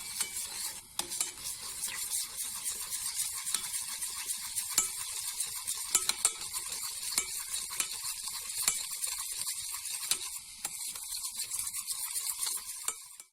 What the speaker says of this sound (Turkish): Sürekli karıştırın.